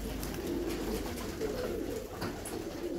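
Pigeons cooing around a rooftop dovecote on a sunny winter day, a steady low soft cooing with occasional wing flutters, fairly close and continuous with no talking.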